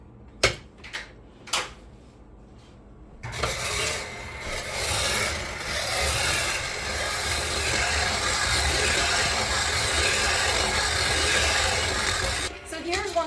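A KitchenAid shaved ice attachment grinding spinning ice against a coarse blade, a continuous close rasping scrape lasting several seconds after a few sharp clicks of the mechanism clamping down.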